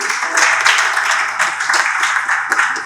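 An audience applauds to welcome Madame Aboya, minister-counsellor at a Côte d'Ivoire embassy, at a special school television event; loud, dense clapping fills the whole stretch with scattered sharper claps.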